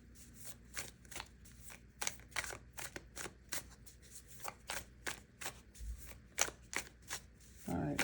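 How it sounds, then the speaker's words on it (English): Tarot cards are shuffled and pulled in a steady run of crisp, close riffling slaps and flicks, fairly quiet and continuous throughout. "Okay, with that, I'm going to be pulling some cards."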